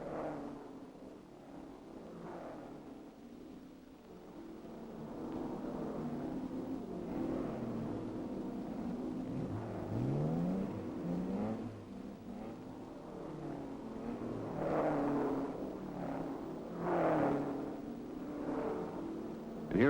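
Several 1961 Ferrari TDF race cars lap competitors during a European Grand Prix road race, engines droning steadily with rising and falling passes, one sweeping pitch swoop midway, moderately loud and continuous throughout.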